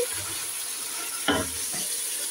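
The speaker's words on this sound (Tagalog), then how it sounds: "Ilagay natin yan. Para igisa muna." Chicken sautéing in a pan for tinola sizzles steadily, with one brief louder stir or scrape in the middle of the short stretch.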